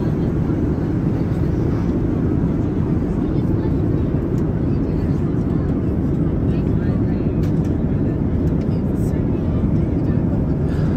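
Steady loud low roar inside an Etihad Airways airliner cabin on approach to Abu Dhabi, a constant engine and air rumble that fills the whole stretch.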